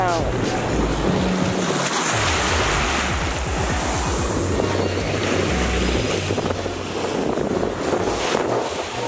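Atlantic Ocean surf washing onto a beach in Miami, a steady broadband roar of waves heavily buffeted by wind noise on the microphone, with a voice speaking over it.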